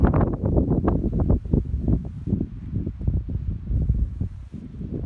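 Gusting wind buffets the microphone on an Appalachian Trail hike in New Hampshire or Maine, rough, loud rumbling bursts, strongest at first, then steadier.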